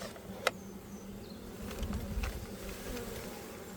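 Honey bees buzz around a mini mating nuc, a continuous close hum with a sharp click early on and some low rustling and handling noise, no voices.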